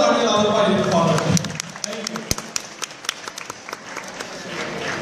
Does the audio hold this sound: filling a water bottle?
no